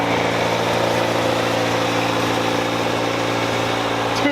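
A 1964 International Scout 80 engine runs steadily after a tune-up, a loud, continuous mid-range idle rumble with constant vibration and no talk over it.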